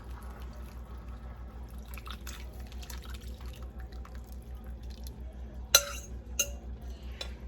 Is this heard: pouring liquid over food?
yes